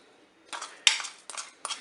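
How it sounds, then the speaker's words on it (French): Roquefort cheese being mashed with a fork or utensil against a bowl, giving four short scraping, clinking strokes in quick succession, close and fairly loud, with no talking. "Le roquefort, vous l'écrasez."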